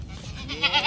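A goat bleats amid the Mahakumbh 2025 crowds: a short, wavering nasal call that swells into a couple of louder pulses toward the end, close and over a steady background hum.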